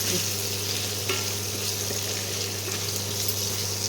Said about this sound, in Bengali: এবার এই মশলাটাকে ভালো করে ভেজে নিতে হবে।